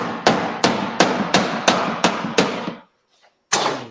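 A hammer strikes seven times in a steady rhythm, sharp and loud up close, then a brief pause before one more blow, driving a cement block into place.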